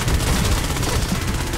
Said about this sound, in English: Oh yeah, this is a cannon.